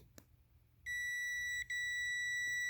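A multimeter gives a steady high electronic beep while testing a Scion alternator, continuous, briefly cutting out once before resuming, close and clear over faint background noise.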